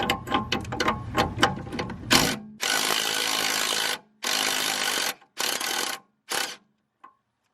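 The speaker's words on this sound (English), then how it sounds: "we need to remove this nut here that connects the air strut to the lower control arm" Ratchet turning a 21mm nut that joins the air strut to the lower control arm on a 2006-2013 Mercedes W221 S-Class, with quick clicking bursts, then several loud, sustained broadband whirring spells separated by short pauses, close up and without talk.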